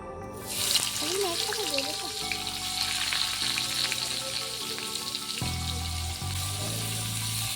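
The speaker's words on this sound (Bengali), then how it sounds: "পেঁয়াজটাকে ভাজবো।" Onion frying in oil in a wok: a steady, close sizzle runs throughout, with background music playing along underneath.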